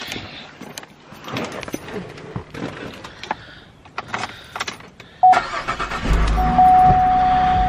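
A car engine cranks and catches close by, then settles into a steady idle, with a brief whir like a power window and faint rustling beforehand.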